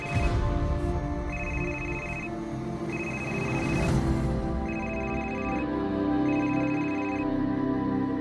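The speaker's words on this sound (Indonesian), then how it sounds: "Telepon ini kan nggak ada kabelnya. Kok bisa bunyi?" A cordless telephone rings in repeated electronic bursts, about five trills spaced roughly 1.5 seconds apart, loud and close over a dense background of ambient drone and music, with no talking.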